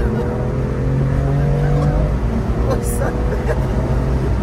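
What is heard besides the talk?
BMW M2 Competition car engine revving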